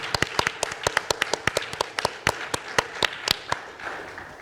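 A conference audience at an international relations think tank session claps for interns, a scattered round of distinct hand claps at moderate distance, spread across several seconds with no talking over it.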